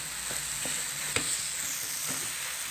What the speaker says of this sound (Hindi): अब हम इसको अच्छे तरीके से भूनेंगे ताकि हमारा घी बाहर आ जाए।